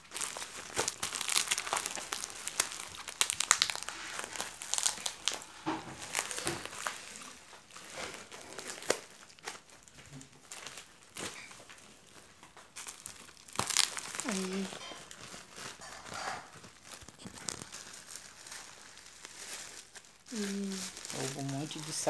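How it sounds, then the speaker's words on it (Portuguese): Plastic bubble wrap bag crinkles and rustles as it is opened, in bursts of crumpling and tearing close up, with people talking intermittently. "Um monte de saco de bolinha."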